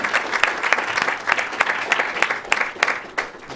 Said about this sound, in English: Would you please join me now in a round of applause for a very informative,